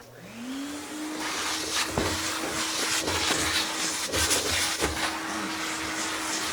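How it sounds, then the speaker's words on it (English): A vacuum cleaner without an attachment, cleaning a car trunk: the motor spins up into a steady, loud whine that keeps going, with occasional knocks and rubbing as the nozzle moves over the floor of the trunk. "I'm going to fire up my vacuum and clean my trunk."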